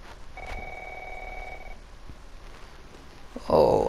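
A mobile phone rings in The Last of Us, a single steady electronic trill lasting over a second in a quiet game scene, followed by a louder thump of handling.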